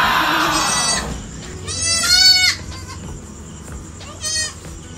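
Pregnant goats bleating on a farm, several loud, close wavering calls in bursts with quieter stretches between and faint farm background.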